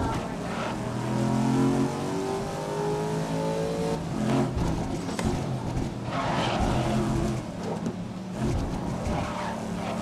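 A car in the racing video game GRID (2019) drives a wet track, its engine droning and shifting pitch as it speeds up and slows through corners, with a steady hiss of tyre and spray noise throughout.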